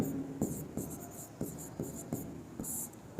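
A pen writes out a linear equation on paper, close scratchy strokes in short bursts with steady pauses between them, alone without talk.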